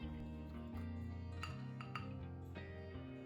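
Utensil clinks against a bowl while seasoning with paprika and Italian herbs is mixed for pork belly, a few light, scattered taps and scrapes over faint background hum, no talking.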